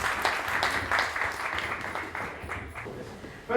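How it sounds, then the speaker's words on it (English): Audience applause at an evening business networking event, Chutney & Chat, welcoming keynote speaker Sukhi Wahiwala: steady moderate clapping from a room of people lasting a few seconds, with some voices mixed in. "A round of applause, please."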